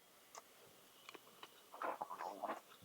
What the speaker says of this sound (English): And crunch away on them.